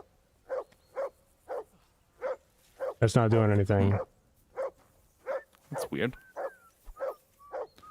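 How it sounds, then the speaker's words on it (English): A dog barks repeatedly at a steady rhythm, short sharp barks about once per second, in the video game Kingdom Come: Deliverance II, while a person talks over it in the middle. "I don't know how to get the dog to stop barking."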